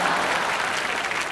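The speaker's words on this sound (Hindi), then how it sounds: "जोरदार तालियां हो जाए" An audience on a comedy television show bursts into loud, dense applause, a steady close clatter of many clapping hands with no talk over it.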